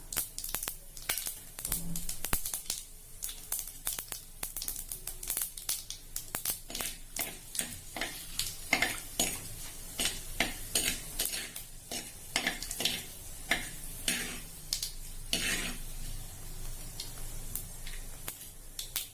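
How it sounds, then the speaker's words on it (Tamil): Mustard seeds spluttering in hot oil for bitter gourd sambar, a dense run of rapid crackling pops and sizzles up close, with occasional clinks of a spoon against the pan and no speech. "கடுகு நல்லா பொரியுது"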